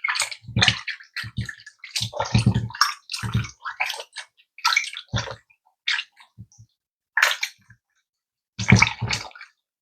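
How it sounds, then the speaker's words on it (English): Cow foot being washed with water and lemon: intermittent splashing, squishing and rinsing in bursts with short pauses, close and fairly loud, no talking. "I'm gonna give this a quick wash."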